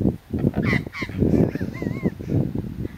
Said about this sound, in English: And that's a mutton bird, that sound.